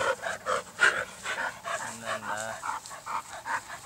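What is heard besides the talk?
dogs fighting and panting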